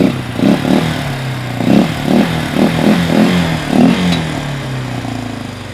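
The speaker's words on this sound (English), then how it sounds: "you ATV folks could probably hear when we hit the throttle, sometimes it's still like starved for gas" A four-wheeler ATV with a fuel-starvation fault sputters under throttle, its engine rising in loud, uneven revving bursts that stumble and settle to a rough idle, heard close with no talking.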